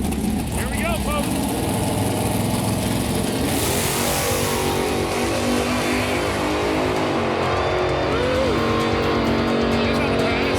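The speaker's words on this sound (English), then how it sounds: "we say on Pastime the Burnouts never lie, so let's give a little watch of this." A 1984 Chevy Camaro with skinny front wheels doing a burnout, engine roaring loud and constant with screeching tires throughout, while a voice talks over it.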